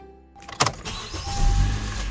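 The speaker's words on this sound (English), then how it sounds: "Turn the car on so we could turn the steering wheel freely." A 2013–2017 Honda Accord starting up: a sharp starter burst followed by the engine catching and settling into a rising, steady idle rumble, close and alone.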